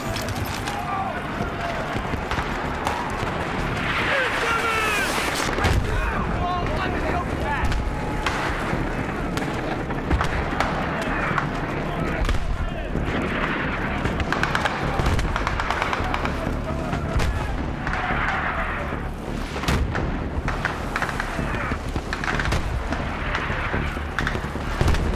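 Battlefield 3 battle ambience with mortar and gunfire: steady loud rumble of distant booms and scattered shots through the whole stretch, with voices calling out over the din.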